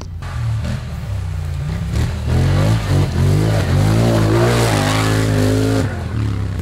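A quad bike arrives on the MotoBoris motocross track, its engine rising and revving hard as it nears, loud and close, then holding a high, strained pitch before it eases slightly.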